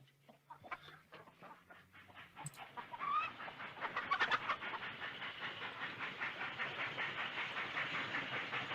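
Roosters and hens in a 1940 film cluck and crow, faint at first and then building into a dense, rhythmic chorus of repeated calls that continues to the end, with no talk.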